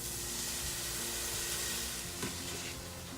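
Onions and garlic frying in olive oil inside a Ninja Foodi, a dense continuous sizzle and crackle at close range, steady throughout with no voices.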